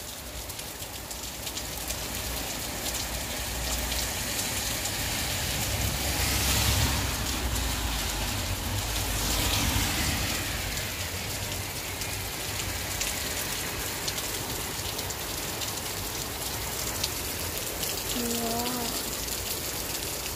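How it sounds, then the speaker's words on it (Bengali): Steady rain falls in a dense, continuous hiss of drops on surfaces that holds evenly throughout, with a brief faint tone near the end. "কত সুন্দর মেঘ দের রে জড়ি দের"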